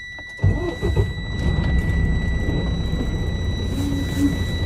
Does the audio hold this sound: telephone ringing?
no